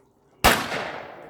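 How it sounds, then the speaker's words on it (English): A single loud shotgun blast fired outdoors at a Boy Scout camp in the Lost Pines, a sharp close report after a quiet moment, then a long rolling echo that trails away. "Shotgun."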